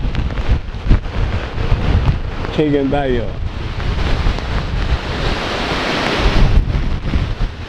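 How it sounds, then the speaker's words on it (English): Strong hurricane wind from Hurricane Beryl roars steadily as broadband rushing noise with buffeting gusts against the microphone, swelling louder near the end, with a person talking briefly over it. "It's tearing up. That's that wind factor."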